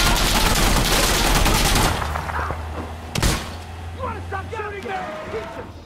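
Rapid automatic gunfire in Insurgency Sandstorm fills the first two seconds, then a single heavy shot rings out before a voice and lighter game sounds carry on underneath.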